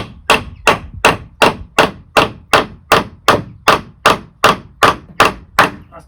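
Fourteen sharp, evenly spaced smacks ring out as a solar panel fitting is hammered into place during a DIY installation in Orkney; the hits are loud and close, and nobody talks.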